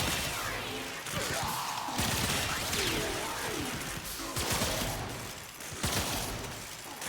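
Zakti Prime weapon in Warframe firing in repeated sharp bursts mixed with crashing impacts and whooshing effects, loud and close, continuing in waves across the stretch.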